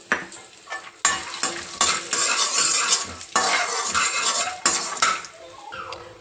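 Peanuts stirred in a hot pan with dried red chillies for nalleru chutney: a steady scraping and rattling clatter with a light sizzle, in bursts with brief pauses, close and fairly loud, with no talking.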